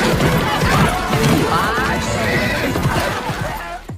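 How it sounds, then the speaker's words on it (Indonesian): A black horse neighs loudly and close by, whinnying over a busy mix of clattering knocks and voices. "saat akan menaiki seekor kuda hitam yang disiapkan untuknya"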